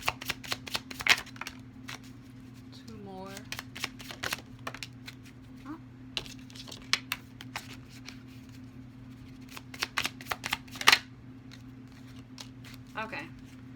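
Oracle cards are shuffled by hand in quick bursts of crisp riffling and flicking, coming and going over a steady low hum, with brief pauses between bursts.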